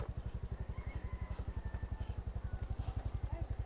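A motorcycle on a muddy road runs close by with a fast, steady low engine putter. It stays loud and even throughout, with faint talk in the background.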